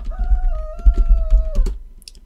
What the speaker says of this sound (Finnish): Ja kukko laulaa ulkona.